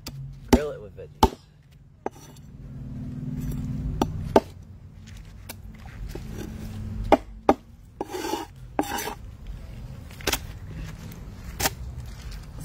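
Knife cutting into a mutton snapper in a backyard garden in the Florida Keys, with sharp chops and rasping scrapes at irregular intervals, close and fairly loud.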